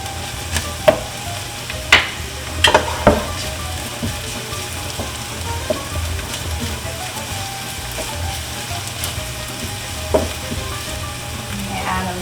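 Onions and garlic sizzle steadily in a pan as a base for Italian Bolognese sauce, a continuous frying hiss broken by a few sharp clicks and taps of a utensil, with no talking.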